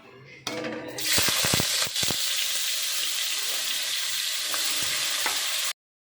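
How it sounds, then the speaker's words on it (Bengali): Diced eggplant hitting hot oil in a wok: a few clinks come first, then a sudden loud, dense sizzle erupts and holds steady for several seconds before cutting off abruptly. "এবার কড়াইয়ের তেলটা গরম হয়ে গেছে, এরকম ডুম ডুম করে বেগুন কেটেছি। এবার আমি এটা তেলের মধ্যে ছাড়বো।"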